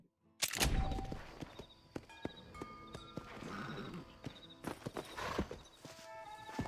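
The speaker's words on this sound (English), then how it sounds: "War horse." A war horse in Red Dead Redemption clip-clops with close, crisp hoof strikes and whinny-like bursts, set against game ambience and chiming musical tones, with no talking.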